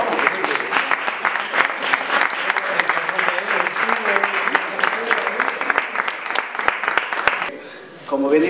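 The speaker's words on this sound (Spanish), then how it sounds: "le damos un aplauso al cartero real que ha venido volando" An audience applauds the royal postman of the Three Kings at a public event in Marbella, with dense continuous clapping for several seconds under a loud announcer's voice before it fades out.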